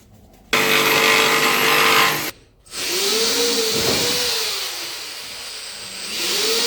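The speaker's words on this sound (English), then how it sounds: "I'm going to jigsaw along that outer line first" A power jigsaw cuts through plywood planking for a dory hull, running loud and close in a long buzzing stretch, pausing briefly, then resuming with a wavering pitch as the blade works along the line.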